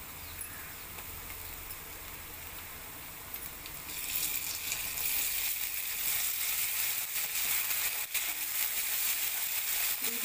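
Ginger garlic paste frying in a pan after onions, a soft, steady sizzle that swells louder midway and holds as a continuous hiss, fairly faint and with no talking.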